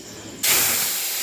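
Potatoes dropped into hot oil for frying burst into a sudden loud sizzle that starts abruptly and holds as a bright, steady hiss, close by, with no talk over it.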